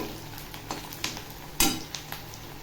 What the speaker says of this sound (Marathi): कांदा छान असा फ्राय करून घ्यायचा